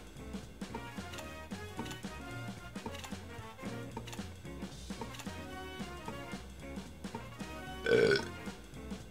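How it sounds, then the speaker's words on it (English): A loud, wet burp erupts near the end, standing out over continuous upbeat game music during a Jackbox party game session. "That was a good burp."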